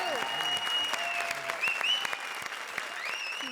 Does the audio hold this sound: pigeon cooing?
no